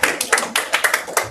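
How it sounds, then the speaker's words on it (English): A class of students claps together in a lesson, a short burst of scattered, close hand claps forming uneven rhythmic bursts, with no talking. "Give yourselves a round of applause"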